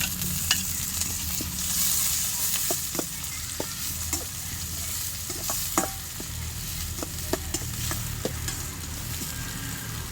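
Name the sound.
tomato and onion sautéing in a pan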